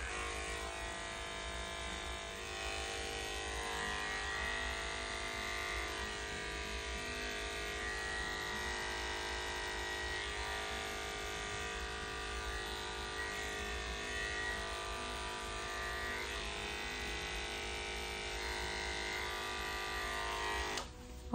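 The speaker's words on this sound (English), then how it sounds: "Using the Heininger Opal Clipper with a 40 blade," Heiniger Opal electric clipper with a 40 blade trimming the paw pads of a Schnoodle, a continuous close, steady buzzing hum that holds for about twenty seconds and cuts off at the end, with no voices.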